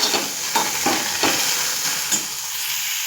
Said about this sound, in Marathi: मी आता पावटा भाजून घेत आहे कढईमध्ये.